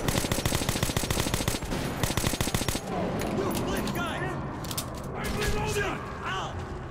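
Gunfire in the video game Metro 2033 Redux: rapid automatic bursts of close, loud shots fill the opening seconds, then sparser shots and clatter continue amid game ambience and voices talking.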